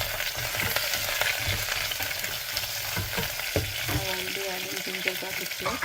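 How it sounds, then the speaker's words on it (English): Onion and green chili sizzle in a pot set to saute mode for spiced rice, giving a loud continuous frying hiss close up with frequent stirring clicks and scrapes. "Just added onion and green chili."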